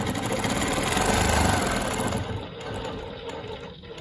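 A longarm quilting machine stitches with rulers, its motor droning loud and steady before easing off partway through, then continuing more softly.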